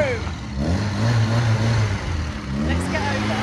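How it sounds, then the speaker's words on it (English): A three-wheeler car engine revs nearby in neutral, its pitch climbing and falling in surges, with a person talking over the rumble. "Listen to that car."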